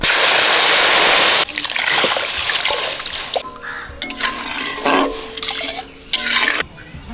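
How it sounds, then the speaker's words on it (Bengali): Water is poured into fried dry mung dal in a pan, a loud rushing splash at first, then bubbling, hissing and clinks of a utensil against the pan. "জল দিয়ে দিচ্ছি"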